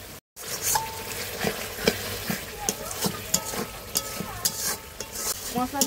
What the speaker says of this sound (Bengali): কষানো হচ্ছে মশলাটা